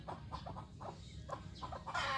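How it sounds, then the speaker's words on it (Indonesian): A young jungle fowl rooster, caught in a snare, clucks in short, repeated bursts close by, with a brief louder squawk at the end over steady outdoor background noise. "Ini ayam jantan muda yang kita dapat sobat ya"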